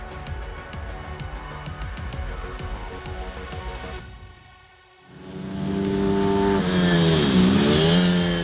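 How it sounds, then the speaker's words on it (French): Mini GP 115 race motorcycles on a track, engines droning and revving steadily, then a louder close bike surges in with a rising and falling pitch as it passes. "les mini GP 115 ouvrent le bal"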